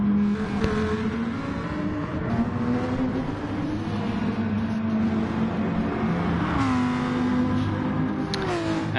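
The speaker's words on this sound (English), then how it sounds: "Not too sure if it's too loud or not loud enough with the cars in the background." Racing car engines in a racing video game whine and rev continuously, pitch rising and shifting as they accelerate, a steady loud game-like engine drone.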